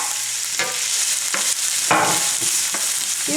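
Chopped onion sizzles in a hot frying pan, a steady close hiss broken by a few louder bursts as it is stirred, with no voices.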